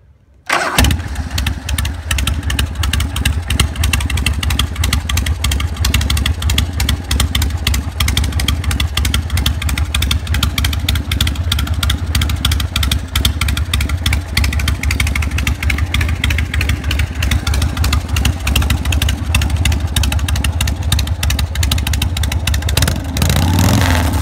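A 1984 Harley-Davidson Shovelhead motorcycle engine cranks over and catches, then settles into a loud, steady, lumpy idle that continues close by for more than twenty seconds with no talking.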